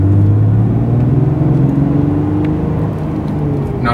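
A 2007-2014 Toyota FJ Cruiser fitted with a new ceramic clutch pulls away, its engine a loud, close, steady rumble and whir that eases slightly toward the end.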